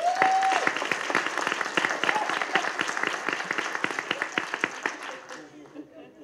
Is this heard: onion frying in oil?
no